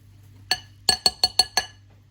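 A whisk clinks against a glass bowl while whisking sponge cake batter: one tap, then four quick rhythmic strikes, close and bright.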